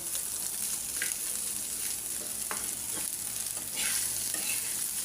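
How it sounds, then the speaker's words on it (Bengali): Small chanda fish frying in a pan and being stirred, the gravelly sizzle running steadily throughout with a few sharp scraping strokes of the spatula, fairly close and with no talking. "আমি আরেকবার নাড়া দিয়ে থাকি, পোড়া পোড়া করছি আজকে"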